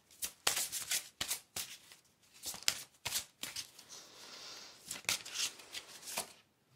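Tarot cards being shuffled by hand in a quiet room, a run of crisp riffles and soft slaps in irregular bursts, close and fairly quiet, with no talking.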